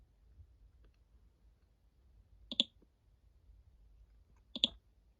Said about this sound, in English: click the AutoSum button.